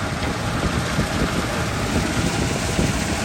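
A tractor engine idles close by during wheat harvest work, a steady, rumbling, continuous low chugging with no speech over it.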